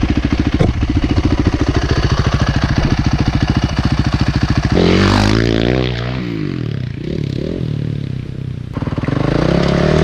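Motocross bike revving hard on a wet, muddy local track in Tokoroa, New Zealand, a steady pulsing engine drone that rises into a strained, whining surge and falls as the rear wheel spins in the mud.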